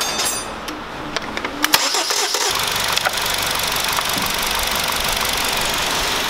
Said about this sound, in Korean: 그 엔진을 정상 조립해 가지고 지금 시동을 걸어 봤습니다